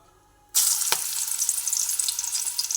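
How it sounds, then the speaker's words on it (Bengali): Spinach fritters dropped into hot oil in a wok burst into a loud, steady sizzle that starts suddenly and continues close and unbroken. "তেলের মধ্যে দিয়ে ভেজে নিচ্ছি"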